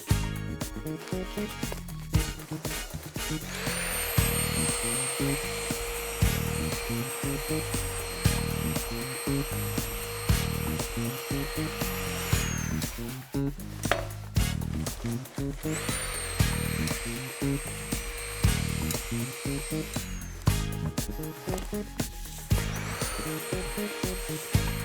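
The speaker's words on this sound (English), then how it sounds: "condition the surface area with a nylon material. With a nylon web, this has got a direction of rotation." A rotary tool fitted with a nylon web wheel conditions a metal surface, giving a steady whirring grind in two long near passes broken by brief pauses, with no talk.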